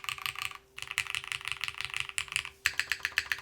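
Fast, steady typing on a Tea House Cinque 55 mechanical keyboard, close and crisp, with dense clacking keystrokes broken by two brief pauses and a faint constant hum underneath.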